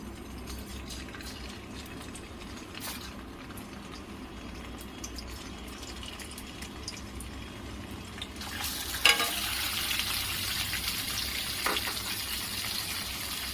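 Paneer fries in hot refined oil: a low steady bubbling hiss at first, then a sudden louder burst of bright sizzling as the pieces hit the oil, continuing close and strong.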